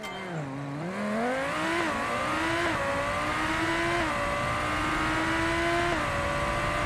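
A super car in BeamNG.Drive launches from a standstill and accelerates hard, engine pitch climbing through several gear changes with brief dips between shifts, loud and close throughout.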